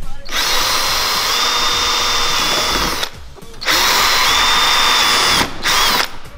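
A power drill bores holes into a cracked plastic AMG bumper, whining loudly and steadily in two long bursts separated by a short pause, right beside the listener.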